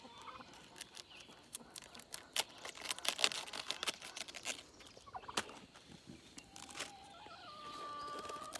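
Farmyard turkeys kept alongside chickens and ducks gobble outdoors, faint, scattered calls over a quiet background with some close rustling and handling noise.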